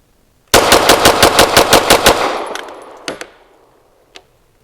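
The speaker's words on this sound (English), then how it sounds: "I'll dump 10 rounds at speed." A pistol fitted with an Icarus grip module fires about ten rounds in a fast, evenly spaced string, loud and sharp, followed by a few metallic clinks of falling brass.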